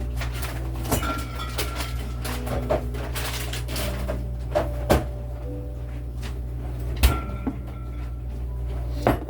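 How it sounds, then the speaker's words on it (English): A cupboard door opens in a kitchen where bacon is being fried, with glass bottles inside clinking and clanking in a few sharp, brief knocks over a steady low hum. "Every time I open up the door, all these bottles like clink clank."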